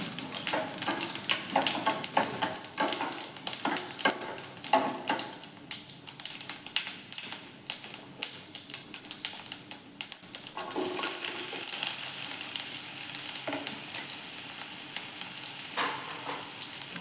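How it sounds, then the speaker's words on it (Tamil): Chopped large onions sizzling in a pan with popped mustard seeds, urad dal and cumin for a buttermilk curry, a busy crackling fry with sharp spatula scrapes and clicks, close and continuous. "கட் பண்ணி வச்சுருக்க பெரிய வெங்காயத்தையும் இதில் சேர்த்துக்கணும்"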